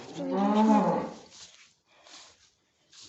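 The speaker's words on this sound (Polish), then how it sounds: "tu jest ta krowa tak bardziej z bliska, tak ona się prezentuje" A newly bought cow on a farm gives one loud, close moo, followed by a few quieter breathy sounds.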